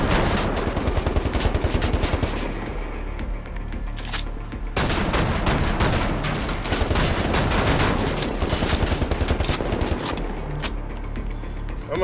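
Rapid, loud gunfire in Wolfenstein: The New Order, shotgun blasts mixed into dense, continuous bursts of shooting with mechanical clatter and a brief lull midway.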